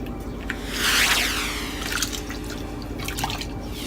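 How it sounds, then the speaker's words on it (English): Water splashes and drips nearby as a hair topper is swished and immersed, with a surging wash of liquid noise followed by scattered wet drips. "just simply immerse in the water"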